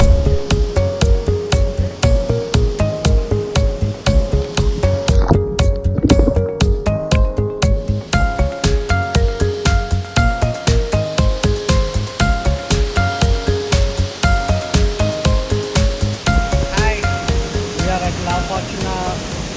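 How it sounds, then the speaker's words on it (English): Continuous roar of a waterfall at La Fortuna in Costa Rica, a dense constant wash of falling water heard beneath a loud pulsing music track. "We're at the waterfall."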